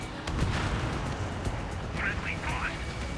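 A missile launch from a fighter jet in the Ace Combat flight game: a continuous roaring, rushing whoosh under jet engine noise with a few sharp cracks, while a radio voice speaks briefly in the background.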